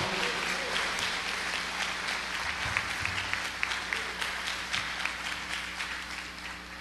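A church congregation claps steadily together, a dense, even wash of applause that carries through the whole stretch with no pause.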